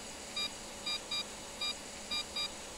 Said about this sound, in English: Beep, beep. Beep, beep, beep,